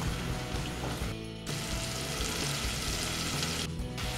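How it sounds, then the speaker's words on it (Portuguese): Chopped garlic frying in butter gives a dense, close crackling sizzle, with a couple of short dips in the sound. "Vou esperar ele fritar um pouquinho."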